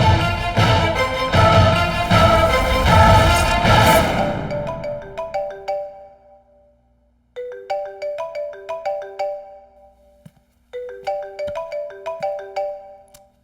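A phone rings in the Hindi-dubbed film Laila O Laila, a bright melodic ringtone repeating in two clear bursts after a loud stretch of music fades out, with no talking over it.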